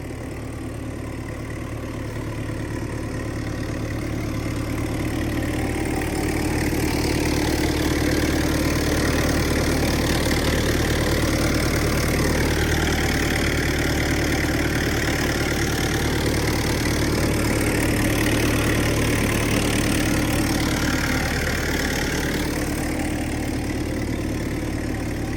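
A large tractor idles on a farm, a continuous low diesel rumble with a steady mechanical drone that builds slightly at first and then holds even and fairly loud, with no voices.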